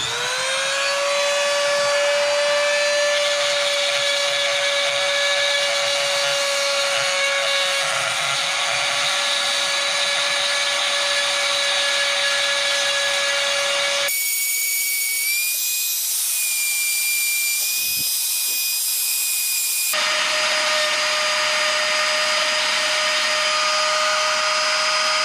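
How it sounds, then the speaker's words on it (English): A Dremel rotary tool grinds on a homemade bladed jig (chatterbait head), a loud, steady high-pitched whine. It holds one pitch, then rises sharply for a few seconds as the load changes, and drops back to the steady whine. "So I'm going to plug up this Dremel. I'm just going to Dremel one for y'all to show y'all how this works."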